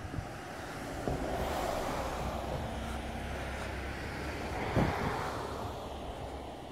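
Sea surf on a Florida beach lined with houses, a continuous soft wash of waves with gusty wind rumbling across the microphone, rising slightly near the end, with no voices.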